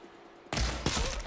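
A gunshot rings out in the Horizon Forbidden West game, a sudden loud burst after quiet ambience, followed by a second sharp impact and a rumbling tail.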